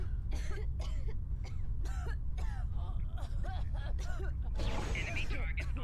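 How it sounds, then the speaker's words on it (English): A series of rough coughs and throat clearing, close and repeated, over a low steady rumble of Star Trek Online, with voices mixed in. "Coughing up a lung."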